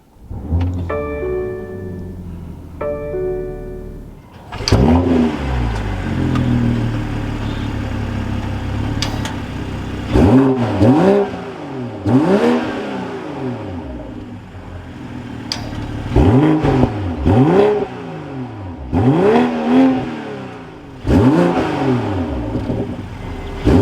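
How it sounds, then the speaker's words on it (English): A 2022 BMW M440i Gran Coupe xDrive starts up after a chime, its engine catching with a loud burst, settling to idle, then revving repeatedly in sharp rising and falling blips, close and loud with no talk. "keeping my foot on the brake, we can go ahead and fire it up."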